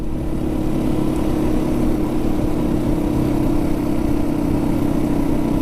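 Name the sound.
Yamaha WR450F motorcycle engine revving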